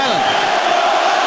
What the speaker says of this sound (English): Let's go Islanders is the call from this crowd here in